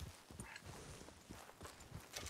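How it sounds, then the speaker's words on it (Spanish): A horse walks in a roleplay video game, its hooves giving a faint, quiet clip-clop in an uneven rhythm over a couple of seconds. "Bonito caballo, por cierto."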